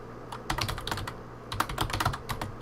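Rapid, hard keystrokes on a computer keyboard during a Minecraft gaming session, with two loud bursts of clattering clicks separated by short pauses, close and clear with no talking.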